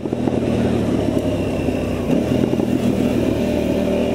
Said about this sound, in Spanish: Oh, como suena, empieza a calentar el motor.